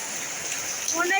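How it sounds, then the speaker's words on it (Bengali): Heavy rain falls as a dense, steady hiss, briefly joined near the end by a voice speaking. "দেখেন দেখেন কত বৃষ্টি হচ্ছে ইয়ার"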